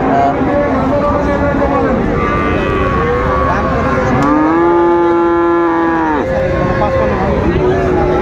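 Friesian and crossbred bull calves at the Raniganj cattle market, with a long, loud moo rising above a busy crowd and ongoing talk, plus shorter lowing calls around it.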